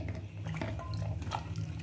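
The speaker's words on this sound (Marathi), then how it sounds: "आपल्याला हे स्वच्छ दोन पाण्याने धुवून घ्यायचे आहे" Figs (umbar, cluster fig) being rinsed by hand in water with a spoonful of salt to draw out the sap, giving a steady close splashing and trickling throughout with no talk.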